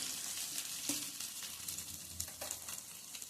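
Medu vada, spiced lentil fritters with a hole in the middle, frying in hot oil: a steady, close bubbling sizzle with a few faint clicks and no voices.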